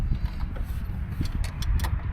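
Quick metallic clicks and ratcheting scrapes from a 13mm wrench working on a VW Rabbit, close and moderately loud, in an irregular series of short taps.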